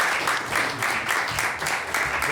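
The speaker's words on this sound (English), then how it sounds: "let's give our candidates a round of applause" A meeting audience gives its candidates a round of applause in a short, loud burst of many hands clapping, rising and falling in an even, pulsing rhythm.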